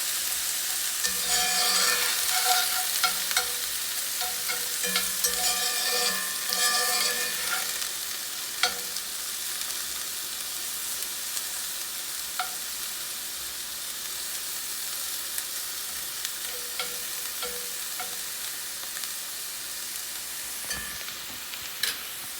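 Mushroom and spinach quesadilla filling is stirred in a hot pan, a steady close sizzle with scraping stirs that are busier at first and then settle into quieter frying, with no voices.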